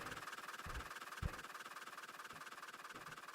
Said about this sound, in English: I'm trying to slow the train down.